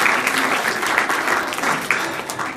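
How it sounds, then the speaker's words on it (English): Audience applause fills a hall at an FBLA state conference as youth motivational speaker Quentin Whitehead is welcomed, a dense, steady wash of clapping that stays loud throughout. "Please give him a round of applause for Mr. It's Possible, Quentin Whitehead."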